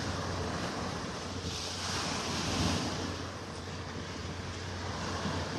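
Waves break steadily on Vanderbilt Beach in North Naples, a continuous wash of surf with wind noise buffeting the microphone, moderately loud and unbroken throughout.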